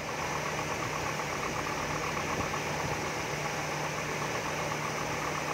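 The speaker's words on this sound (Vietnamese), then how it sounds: "Không một dấu hiệu rớt máy nha. Con tán nè. Clean chưa? Ok chưa? Máy hoạt động nè." A 2002 Daewoo Nubira 1.6 petrol engine idles steadily, a smooth continuous hum with a faint low drone held at an even level throughout, with no talking.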